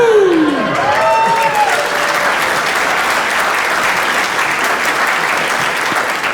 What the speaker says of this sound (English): Guys, you're clapping.